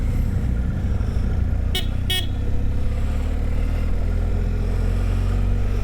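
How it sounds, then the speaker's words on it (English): Adventure motorcycles on the Idaho Backcountry Discovery Route rumble steadily at close range with no voices. Two short, sharp horn-like toots cut in early on. "Gentlemen, start our engines."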